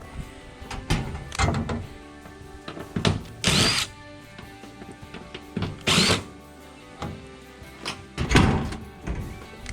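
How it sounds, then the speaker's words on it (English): Cordless power drill backing out two screws during odd-jobs repair work, heard as several short whirring bursts with clunks and knocks between them, close up and without speech. "Oh, there's two screws right there. Let me pull them out."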